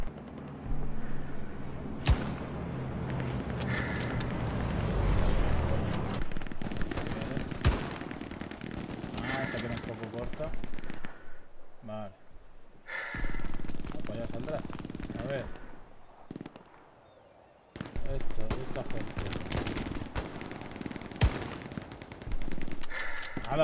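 Dense sniper rifle gunfire and battlefield shooting in the WWII game Hell Let Loose, with sharp repeated cracks and bursts of fire over a loud, continuous combat din, briefly dropping near the end before resuming.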